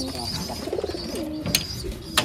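Pigeons coo softly in low, rolling murmurs, with a couple of sharp knocks and faint chirps in the background.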